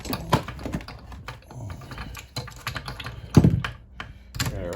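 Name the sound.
ratchet wrench tightening a chainsaw spark plug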